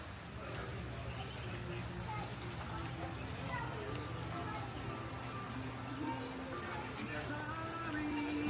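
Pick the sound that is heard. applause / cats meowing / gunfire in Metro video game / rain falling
rain falling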